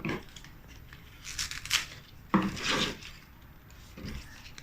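Scissors snip pandan leaves into small pieces in a quiet kitchen, a few irregular close-up cuts with soft rustling of the leaves between them.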